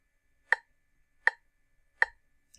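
Metronome set near 80 beats per minute, giving three crisp, evenly spaced clicks about 0.75 seconds apart plus the start of a fourth, sharp and close against silence.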